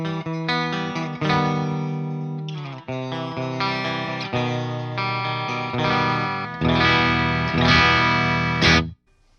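Schecter electric guitar played through its bridge pickup on a clean-ish amp channel, a run of sustained chords and picked notes carrying on steadily at close range and ringing out before a sudden stop.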